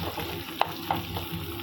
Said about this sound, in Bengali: আর এই যে আমি কড়াইতে তেল দিয়ে দিয়েছি, সর্ষের তেলই। পেঁয়াজগুলো আমি দিয়ে দিলাম।